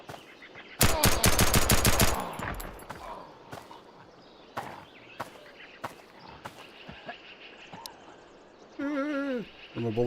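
Rapid automatic gunfire bursts loudly for about a second in the Road to Vostok shooter, followed by scattered single shots and thuds, with a brief voice near the end.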